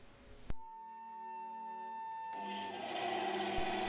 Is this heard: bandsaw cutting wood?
yes